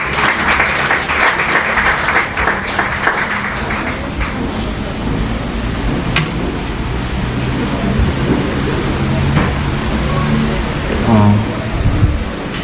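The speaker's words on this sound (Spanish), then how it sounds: "Vamos a dar un fuerte aplauso" A church congregation claps loudly to welcome the pastor to preach, dense applause that thins out partway through, leaving room noise and a few scattered claps.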